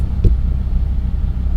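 Low, steady engine rumble heard from inside the cabin of a car fitted with a new race motor, moderately loud and even, with a brief knock near the start.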